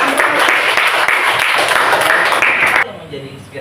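A classroom of people claps steadily and loudly for a few seconds, then the applause cuts off abruptly into quiet room sound.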